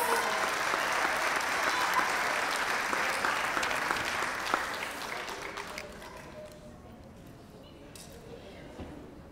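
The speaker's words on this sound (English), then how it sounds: "Give a round of applause to Uriel Martinez." Applause at an elementary school sixth-grade graduation as a student award winner is called up, a full crowd of clapping that holds strong for about five seconds and then tapers off into scattered claps and room noise.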